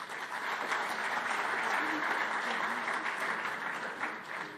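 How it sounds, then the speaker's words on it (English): A conference crowd gives a sustained round of applause for a former judge of the International Court of Justice, dense and even clapping filling the hall from start to finish. "Give her a round of applause."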